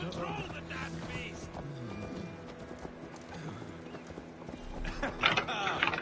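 A horse's hooves clip-clop in Assassin's Creed Valhalla, a steady walking rhythm under ambient game sound and low voices, with a brief snort or whinny near the end.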